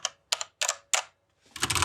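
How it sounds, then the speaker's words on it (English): Keystrokes on a DaVinci Resolve editing keyboard with Cherry MX Red mechanical switches: four loud, separate clacks at a steady pace, then a quicker cluster of presses, close and alone with no talking. "these ones are cherry reds, the DaVinci Resolve keyboard, so they're gonna sound very similar to my HyperX keyboard"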